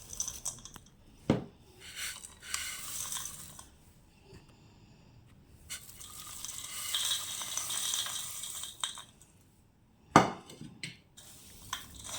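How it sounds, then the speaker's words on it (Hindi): A spatula scrapes and clatters through a full pot of spiced namkeen snack mix, giving intermittent scraping strokes and sharp metallic knocks at close range, with quiet pauses between bursts. "ये वाला बर्तन इतना भर गया था कि यदि मैं इसे हाथ से मिक्स करती तो ये गिरता है, इसलिए मैंने स्पैचुला का इस्तेमाल किया है।"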